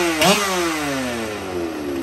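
Husqvarna chainsaw engine firing up after pull starting, giving a short sharp rev that falls away into a steady close running drone.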